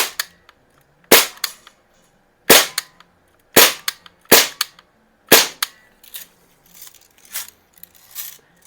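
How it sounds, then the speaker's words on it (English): Shots from a Healthways Plainsman MX175 CO2 BB rifle striking cans, a series of sharp cracks spaced about a second apart, loud and close, with fainter pops and clatter trailing after. "I'm hitting the cans with that right where I'm aiming"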